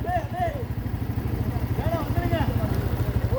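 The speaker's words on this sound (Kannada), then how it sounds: "ಗಾಡಿ ಗಾಡಿ" A vehicle engine runs on the Charmadi forest road, a low, steady chugging rumble close by, heard under people talking and calling out.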